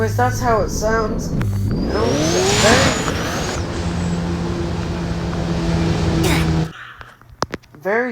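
A car revving in the Driving Empire video game, loud rising and falling engine sweeps, then a steady drone with sharp revs near the end, with a person talking at times.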